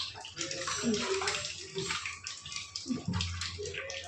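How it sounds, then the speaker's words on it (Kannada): A steady rush of water draining out of a washing machine, pouring and gurgling away, continuous and close by. "ನೀರು ಹೋಗ್ತಾ ಇದೆ ಅಲ್ವಾ"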